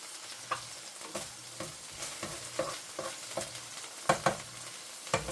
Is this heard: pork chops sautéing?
yes